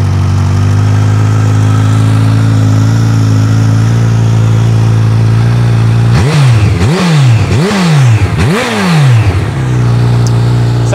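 A motorcycle engine, already warm, idles loudly and steadily at close range, then is revved hard four times in quick succession, each rev rising and falling, before settling back to idle.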